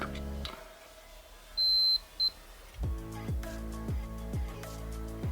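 A multimeter on continuity test lets out a high, clear electronic beep, a long tone followed by a short second one, amid quiet handling noise.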